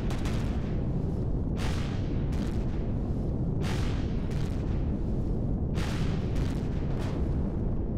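Weapon fire at turrets in Empyrion Galactic Survival, repeated heavy booming shots in irregular bursts over a constant loud rumbling drone.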